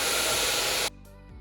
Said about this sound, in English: Always important to blow dry it.